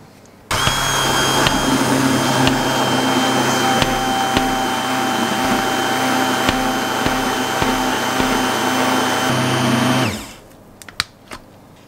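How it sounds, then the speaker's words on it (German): Hand blender pureeing a cream sauce in a kitchen, switching on abruptly and whirring at a loud, steady pitch with faint rhythmic clicks for about nine seconds before cutting off. "Ich schau mal, ich püriere die mal erstmal."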